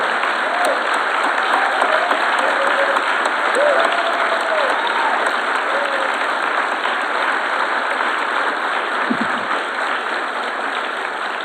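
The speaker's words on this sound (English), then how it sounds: "Now is the time that I join you in applauding these 3." An auditorium audience at a high school mayoral forum applauds the panel, a dense, sustained round of clapping that stays loud and even throughout, with a brief low thump near the end.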